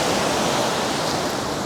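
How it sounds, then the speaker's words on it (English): Ocean waves wash in and draw back over sand beside a rocky jetty, a loud, steady broadband rush of surf with no distinct breaks, heard close and alone. "when these waves come through and kind of retreat back"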